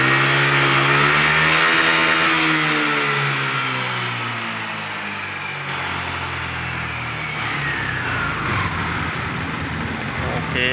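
A Honda scooter or motorcycle engine, fitted with a remapped ECU, revs as the throttle is twisted, climbing in pitch then settling back to a steady mid-range drone, close and loud.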